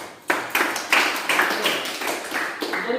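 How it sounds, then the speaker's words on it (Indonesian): Classroom applause during a physical education lesson, a burst of many hands clapping that swells in several waves over three seconds, fairly close and steady. "Silakan berikan aplaus."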